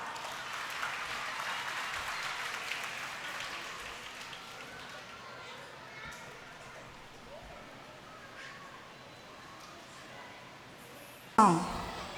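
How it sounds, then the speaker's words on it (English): A crowd claps in a scattered, fading round of applause, with a sharp clatter near the end. "Let us give them a big clap."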